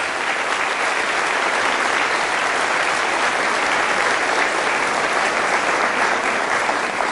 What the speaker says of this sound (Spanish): Fuerte el aplauso al Señor Jesús.